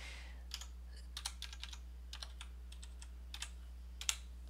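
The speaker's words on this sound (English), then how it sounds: "Let me type it in my XR Talk Show page." Someone types on a computer keyboard. Quick, light key clicks come in short irregular runs, faint and close, over a steady low electrical hum, and nobody talks.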